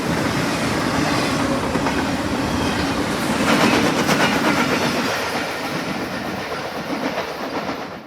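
A westbound Norfolk Southern intermodal freight train rolls past nearby, a continuous heavy rumble with rhythmic wheel clicks over rail joints that swells midway and then eases slightly, with no voices.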